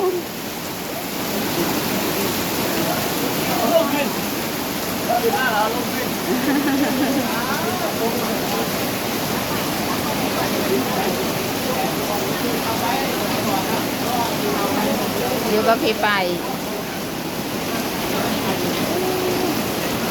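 Heavy rain pours steadily, a dense continuous hiss of water falling on surfaces outdoors, with a voice speaking briefly over it.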